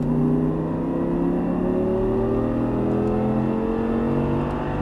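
An Audi R8 on a race track powers out of a turn, its engine droning loud and steady with rising pitch as it accelerates, heard from inside the car without talk.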